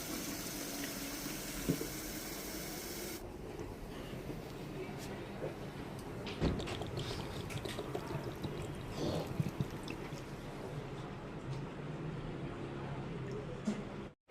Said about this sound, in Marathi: मी आत्ता पाणी भरत आहे.